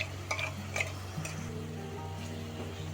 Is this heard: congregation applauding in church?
no